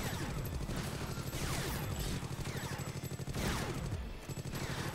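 Shotgun blasts in Awesomenauts Starstorm, fired by the character Ted McPain: dense, loud repeated bursts in a fast rhythm, mixed with crashing game effects throughout.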